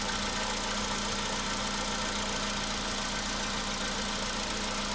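A Volkswagen Polo Sedan engine idles on a cold start with a steady, even drone and a thin, constant whistle-like tone running through it, close and unchanging.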